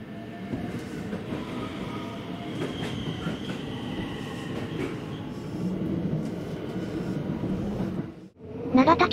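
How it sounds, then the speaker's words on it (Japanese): A six-car electric train on the Hanwa Line rushes along at high speed, a steady loud roar of wheels and rumbling with faint rhythmic rail clatter, ending in a brief dip then a rising squeal. "5100番第6両編成の高速走行をご堪能ください"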